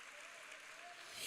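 Applause from a church congregation, a dense steady patter of clapping that swells slightly at the end.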